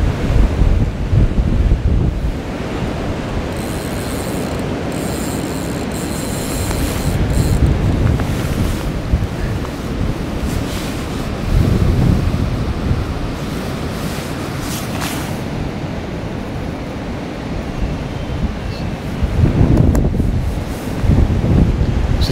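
Strong wind buffets the microphone beside a fishing lake during a carp match, a loud, continuous roar that swells in gusts and never drops away.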